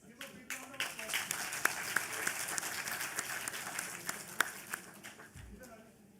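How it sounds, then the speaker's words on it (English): Students at a university orientation event applaud, a dense crowd clapping with sharp individual claps cutting through, heard somewhat distant and muffled, with voices mixed in. "Let's give a big round of applause"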